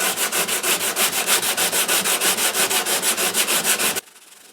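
Steady rhythmic hand sanding on a Larrivee guitar's wood finish, quick back-and-forth scratchy strokes close up, stopping abruptly near the end.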